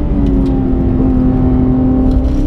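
A Porsche GT3 RS pulls out of the pits at Circuit Paul Ricard, its engine a steady, loud onboard drone with a rising whine as it accelerates, heard alone without talk.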